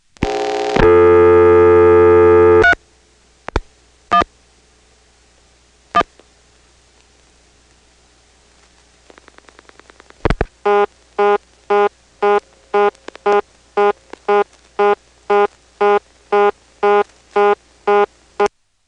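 A 1977 step-by-step telephone exchange in Dale City, Virginia answers a vacant code: a long steady tone, scattered clicks, a brief buzz, then a repeating series of short harmonic tone bursts in a steady rhythm.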